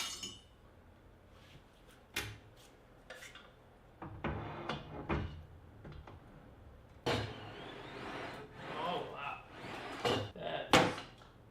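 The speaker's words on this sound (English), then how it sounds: "I'm going to take the actual fence off." Removing the rip fence from a Harvey table saw: scattered metallic clanks, knocks and sliding scrapes at close range, separated by quiet gaps, with a busier cluster of clatter toward the end.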